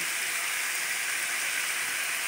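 Vegetables, carrots among them, with spices frying in a pan, giving a steady, close broadband sizzle that holds even throughout with no talk.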